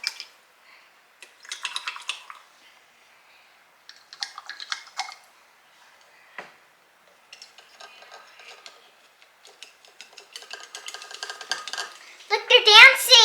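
Rice or quinoa being stirred in a pot, with intermittent clinking and scraping bursts of a utensil against the pot, separated by quiet pauses, and a voice near the end.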